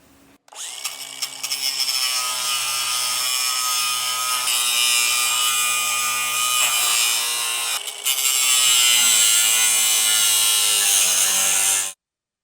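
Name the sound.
cutting a weld off a boat trailer frame with a grinding wheel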